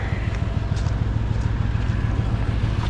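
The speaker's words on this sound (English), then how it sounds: "I actually didn't see this wind coming until this morning" A wind storm roars steadily against the microphone, a loud, constant low rumble with faint gusting and no voices.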